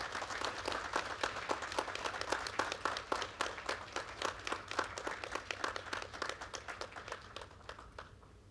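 A university convocation audience gives a sustained round of clapping, individual claps distinct and rhythmic, fairly faint and distant, tapering toward the end.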